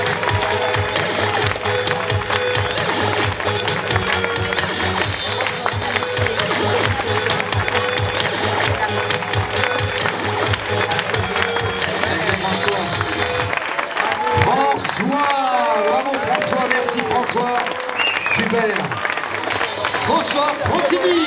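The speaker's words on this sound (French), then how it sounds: "Regardez, sous vos applaudissements" Crowd applause and cheering at a 2018 triathlon awards ceremony in Nevers for the Magny-Cours race, a dense wash of clapping under loud background music throughout.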